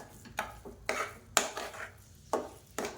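A spoon scraping and knocking against a pot while sweet pongal with cardamom and dry ginger powder is stirred, five distinct strokes in a slow, even rhythm, close by.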